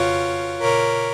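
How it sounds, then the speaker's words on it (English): A soft pad sound from an initialized patch on an Elektron Digitone 2 synthesizer, sustained chord tones holding evenly with a slight swell partway through. It is short, smooth and steady, with no voices. "This is the initialized patch I created. It is a pad."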